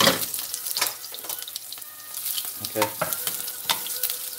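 Onions frying in a hot pan for takeaway-style chicken fried rice: a steady close sizzle broken by scrapes and clatters as they are stirred, with one brief spoken word.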